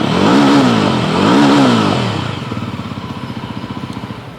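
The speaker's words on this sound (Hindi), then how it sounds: "अब स्पोर्ट्स एडिशन का स्टॉक साउंड आप सुन सकते हो," Yezdi Roadster Sport Edition on its stock exhaust, revved twice loudly up close before dropping back to a rough, pulsing idle.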